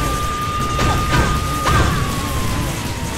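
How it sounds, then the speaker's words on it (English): A steady high siren tone in the video game Astro Boy runs beneath loud mechanical crashing and a couple of heavy impacts, all dense and close. "Please, someone turn that siren off."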